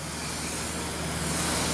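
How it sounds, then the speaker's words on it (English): Cooking spray hisses onto a baking pan in a steady, close, loud continuous burst lasting under two seconds, with no talking over it. "I'm going to go ahead and spray this pan real quick."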